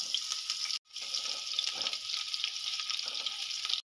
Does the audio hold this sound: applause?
no